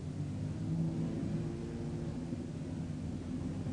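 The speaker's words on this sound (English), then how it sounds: "half a dozen cars left to be fired up" Super sedan speed car engines at Newcastle Motordrome, Australia, being fired up before a feature race, a steady loud low rumble with rising revs, close by and alone with no talk.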